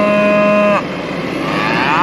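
A cow on a farm moos loudly in one long, strongly harmonic call that breaks off partway and then rises again at the end. Farmyard ambience fills the background, and nobody speaks.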